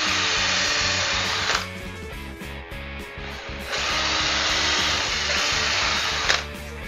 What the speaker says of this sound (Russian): ровно по центру просверливаем сверлом на 3